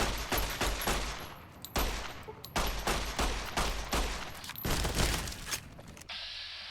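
Rapid bursts of gunfire as a bounty hunter named Duster is shot in a video game, loud repeated volleys with short gaps over about six seconds, ending abruptly.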